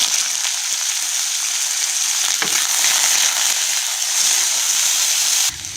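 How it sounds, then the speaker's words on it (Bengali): Carrots frying in hot oil in a home kitchen while preparing dudh shukto, a steady, close, dense sizzle that holds evenly throughout and drops off briefly at the very end, with no talking. "আবার তেল দিয়ে দিলাম, গাজরটা ভেজে নেব।"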